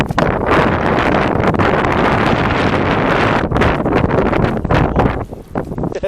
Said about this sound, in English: Yeah, the wind's picking up.